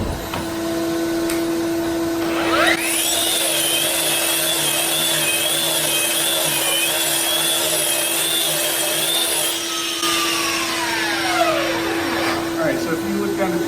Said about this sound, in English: I'm just going to grind a little spot right here so you can see what it is in regular speed